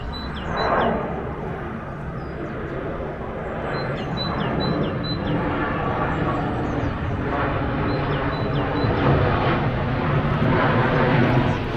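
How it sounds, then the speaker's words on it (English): An airplane flies over on its approach to Stansted Airport above a medieval Essex town, a steady, broad engine roar that swells slowly as it nears, with a few faint bird chirps in the background. "here comes another flight into Stansted Airport"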